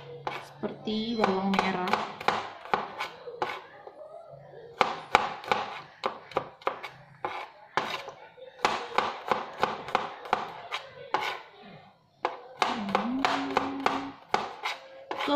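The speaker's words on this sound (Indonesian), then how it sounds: "dan bawang putihnya juga kita iris sama" Garlic cloves being sliced with a knife on a cutting board in a home kitchen, giving quick close rhythmic chopping taps in steady bursts under a woman's speech.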